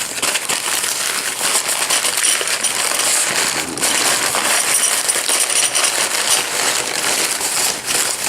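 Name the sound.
bag of engine push rods being handled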